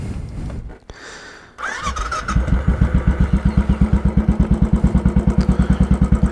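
A Royal Enfield Classic 500 motorcycle fires up after a few cranking sounds, then settles into a loud, close, steady single-cylinder thump of evenly spaced pulses.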